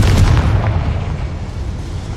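The Confringo spell detonating in Hogwarts Legacy makes a loud, close, low boom that rumbles and slowly decays.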